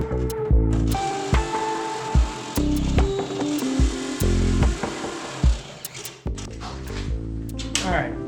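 Holes being drilled in metal for a trunk grill build, heard as bursts of power-tool whine and grinding with clunks and ratcheting between them, close and loud, while someone talks.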